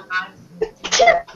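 A single sharp sneeze bursts out close by, preceded by a short breathy intake and followed by a brief voice.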